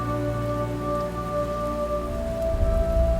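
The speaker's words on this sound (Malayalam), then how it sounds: "നീ ഒരുപാട് ഇഷ്ടപ്പെട്ടിരുന്ന മഴ" Steady rain falls in an even, hissing wash, while soft sustained musical tones play throughout and a low rumble swells near the end.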